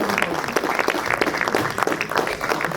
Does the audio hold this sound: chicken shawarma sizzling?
no